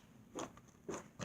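Crunchy slime squeezed in short bursts, giving three quick crackling crunches close by, quiet overall with no talk.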